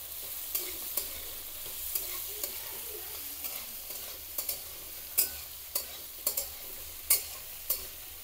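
Finely chopped onions with a spoonful of salt are stirred in a frying pot for a chicken stew, a soft steady sizzle punctuated by a dozen sharp spoon scrapes and taps at irregular intervals.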